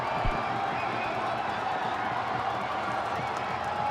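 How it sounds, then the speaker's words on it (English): Sri Lankan fans in a packed cricket ground roar and cheer continuously at the Hong Kong Sixes final against Pakistan, a dense, even wall of crowd noise with scattered shouts and claps. "Look, just listen to the roar from the crowd."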